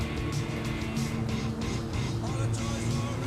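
Engine of a damaged car in Grand Theft Auto V, a steady mid-level drone with faint revving swells and rhythmic bursts of higher noise over about three seconds, with no speech.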